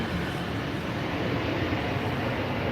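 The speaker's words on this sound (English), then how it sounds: "That plane coming over." An airplane passes overhead as a steady, broad, distant rumble that fills the whole moment without clear peaks, with no talk over it.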